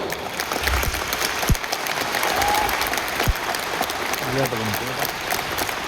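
Steady applause from a crowd, a continuous patter of clapping with a couple of sharp thumps and brief voices mixed in.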